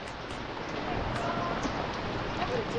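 Steady rain falls at a campsite, a continuous broadband hiss of drops close by with no clear pauses, while people talk over it.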